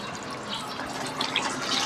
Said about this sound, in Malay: Okey, so kita letak air sekali ya.